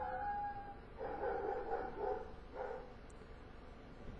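Several dogs bark outdoors in the background, a short cluster of muffled, mid-distance barks and yips that comes and goes over a steady low hum.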